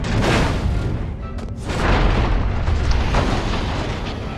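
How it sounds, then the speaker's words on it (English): A tank blowing up in the video game Destroy All Humans!, heard as a loud, dense explosive roar that swells again midway and rumbles on for several seconds, with no clear talk. "Destroy the tank so quick."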